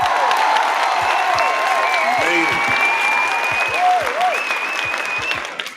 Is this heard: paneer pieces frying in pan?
no